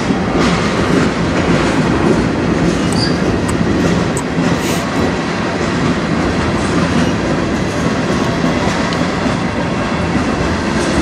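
A CN freight train rolls past on the rails in Sarnia, Ontario, with a loud, continuous rumble and clatter of wheels, close by and steady throughout, with faint squeals overhead.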